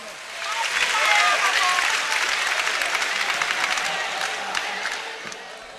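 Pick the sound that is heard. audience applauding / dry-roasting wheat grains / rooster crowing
audience applauding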